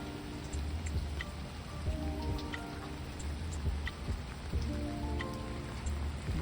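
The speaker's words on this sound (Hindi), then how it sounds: "यहाँ बहुत तेज़ बारिश इस वक्त हो रही है।" Heavy rain pours down steadily outdoors, a dense continuous wash with scattered drip and splash accents, heard alone without voices.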